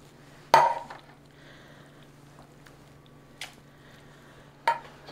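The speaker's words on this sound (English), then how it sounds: "I'm gonna get a little pan that I use all the time." A small, well-used kitchen pan is fetched and set down, giving a sharp metallic clank followed by two lighter knocks spaced a few seconds apart in an otherwise quiet kitchen.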